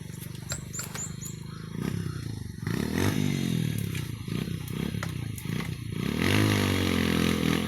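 An off-road motorcycle is ridden along a dirt trail, its engine rising and falling in rough, uneven bursts with clattering and scraping, getting louder as it nears while people talk nearby.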